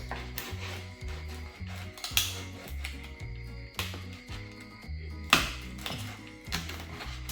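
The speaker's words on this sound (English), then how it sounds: "I'm going to put my other hand to put some pressure on the knife, and I'm going to cut right through" A knife cutting through a slab of crispy pork belly in a kitchen, giving several sharp crackling crunches and clinks against the board over a steady low background hum, with no talking.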